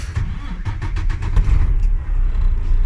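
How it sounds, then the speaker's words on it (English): A car engine starting during a pre-drive check of windshield wipers and washer, with a short cranking rattle that catches into a steady, loud idle rumble close by. "Then I will be starting my engine."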